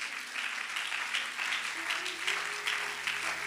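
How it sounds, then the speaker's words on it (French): A church congregation applauds in praise, a dense patter of many hands clapping at moderate distance, with faint murmuring voices and a low sustained tone underneath. "Acclame pour le Seigneur"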